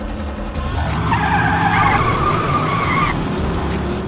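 Drag racing cars from the IHRA Drag Racing PlayStation game, ranging from souped-up street cars to top fuel dragsters, roar continuously with a rising tire-squeal tone over about two seconds.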